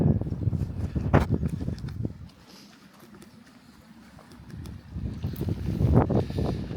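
Gusty wind buffets the microphone on an open fell, loud rumbling bursts that drop to a near lull midway before surging back strongly.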